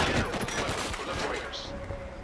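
Gunfire in the video game Killzone Shadow Fall, a short close burst of several sharp shots in quick succession followed by fainter game ambience and a brief electronic tone, with a voice speaking over it.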